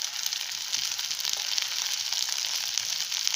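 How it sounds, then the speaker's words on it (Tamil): Sliced okra deep frying in hot oil, a dense, steady hiss of bubbling and crackling that holds evenly throughout, close up with no voices. "2 நிமிஷம் டீப் ஃப்ரை ஆகட்டும்."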